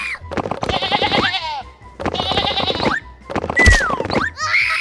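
Cartoon sheep bleat in three separate wavering calls, close and clear, each a quivering voiced cry with short gaps between them.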